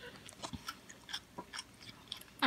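Crunchy Taco Bell nachos are chewed close to the mic in a series of sharp, crisp bites and crunches spaced unevenly, ending in a louder crackle, with no talking.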